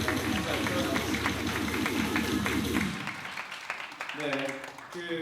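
Audience applause fills a hall in dense steady clapping for about three seconds, then fades as a voice begins speaking.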